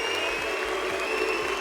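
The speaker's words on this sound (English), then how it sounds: "we still have claps because that was a heck of a good game over Rocket League" Arena audience at the RLCS World Championship 2025 Rocket League final applauding after a match, a dense, steady wash of loud clapping from a large crowd throughout.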